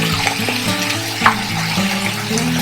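Small puti fish slide into a hot oiled pan for a Bengali bati chochhori, giving a loud, close, continuous sizzle and frying crackle with a brief clink of utensils, no talk.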